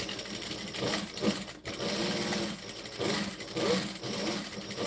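A home sewing machine runs fast and steady, revved hard while stitching a bag, with a whirring mechanical hum that dips briefly then resumes, close and continuous without speech.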